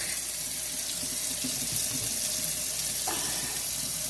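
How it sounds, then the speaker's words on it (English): Kitchen tap water runs into a sink while something is rinsed, a steady close hiss of flowing water with the pitch briefly changing as the stream hits differently, no talking. "We're going to rinse these out really well"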